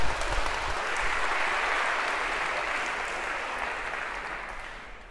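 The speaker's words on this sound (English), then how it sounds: "Maybe a round of applause for our first volunteers of term." A lecture-hall audience at a Harvard CS50 computer science class applauds volunteers: steady, dense clapping that starts loud and slowly thins and fades over about five seconds, with no one speaking.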